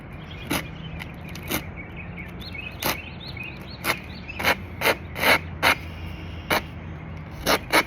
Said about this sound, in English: You really want a really thin layer of paint on this scraper here.